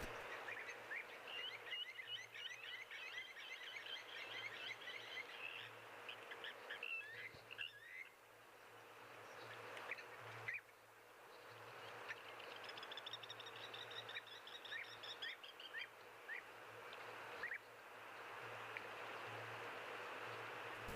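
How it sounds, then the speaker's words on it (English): Bird calls ring out through steady outdoor ambience at a wildlife watering spot, including European bee-eaters, with a constant low hum underneath; the calls are moderate to faint and come in scattered bursts with no talk. "just picking up that audio of the European bee-eaters now"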